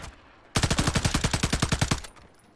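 A sustained burst of automatic gunfire in the video game Warzone, about fifteen rapid evenly spaced shots in one continuous string, punchy and close, then stopping abruptly.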